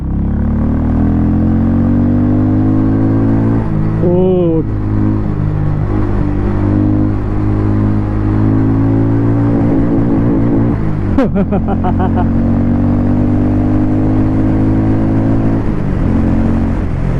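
A 2024 Harley-Davidson X440 motorcycle engine drones steadily while riding, a loud low rumble with a couple of rising revs as gears change, alone without talking.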